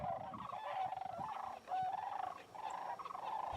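Sandhill crane calls ring out in a continuous rolling, trumpeting chorus of several birds. The sound is fairly loud and stays close throughout, with no talk.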